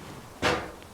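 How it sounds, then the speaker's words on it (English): An old wooden door on a ghost town cabin in Grafton is forced open, giving one short scraping thud as it sticks, close by against a faint outdoor background. "Door sticks."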